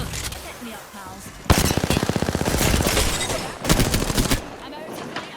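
Gunfire in the game Apex Legends: two bursts of rapid automatic fire with distinct evenly spaced shots, the first longer than the second, mixed with game sounds and some talk.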